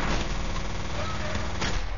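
Continuous, dense gunfire and explosive noise from the first-person shooter game F.E.A.R., loud and unbroken throughout, with a game soundtrack and effects layered underneath.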